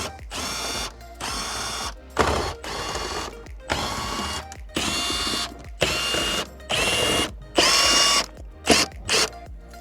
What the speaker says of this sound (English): So let's take the 8mm bolts out first.